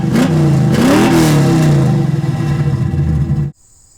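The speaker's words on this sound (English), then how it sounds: "depressing the accelerator a couple of times and revving up the motor" An automatic 1970s muscle car engine revs loudly up close, its pitch climbing and falling through a couple of throttle blips before cutting off abruptly near the end.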